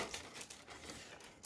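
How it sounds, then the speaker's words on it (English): Plastic bags crinkling and rustling as they are pulled from a Miniart European Tramcar model kit box, a close, continuous crackle with a few sharper bursts and no talking. "Get rid of plastic bags."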